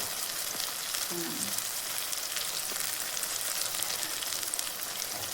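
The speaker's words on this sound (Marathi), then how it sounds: "ह्याला मस्त फ्राय करून घेते" Spices with turmeric and red chili fry in hot oil for a spicy chutney, a steady dense sizzle that continues throughout, close and fairly quiet with no voice over it.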